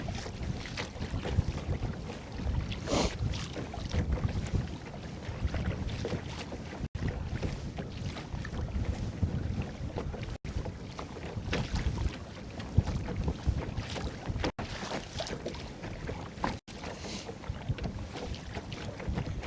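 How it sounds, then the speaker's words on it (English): Wind gusts buffet the microphone while kayaking on open water, a continuous loud rumble with faint water sounds and no speech. "Oh, the wind."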